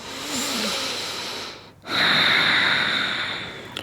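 Deep breathing during a yoga upper-body stretch: a long breathy inhale, a brief pause, then a strong airy exhale through the nose, close and alone without talk.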